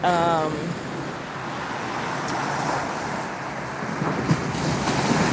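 Rough ocean surf washes steadily at a beach in Phuket as the tide comes in, with a continuous broad roar and wind buffeting the microphone.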